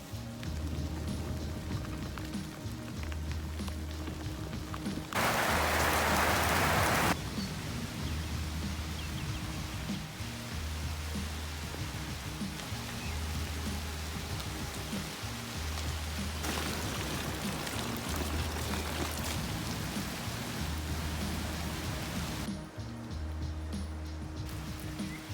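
Rain falling around a bicycle tourer in Georgia, a continuous broadband wash of drops with a steady low rumble beneath, swelling in two louder bursts, no voices.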